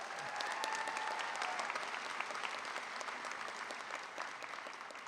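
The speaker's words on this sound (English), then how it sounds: "let's give them a great round of applause" A commencement crowd gives the graduates a steady round of applause, a thick, even wash of clapping from many hands that stays at a constant level throughout, with no speech.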